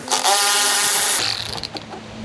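A power tool whirs loudly for about a second while unscrewing Torx T25 bolts from a 2023 BMW S1000RR seat, then a few light mechanical clicks and rattles follow.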